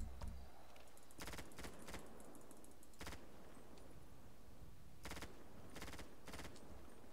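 Micro SMG (Uzi) fire in GTA FiveM comes in short, sharp bursts separated by pauses, faint and a little distant over a steady background hiss.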